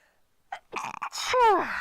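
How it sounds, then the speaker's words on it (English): A single sneeze, preceded by a couple of quick sharp inhales and building to a loud, voiced burst at the end. "I'm going to sneeze."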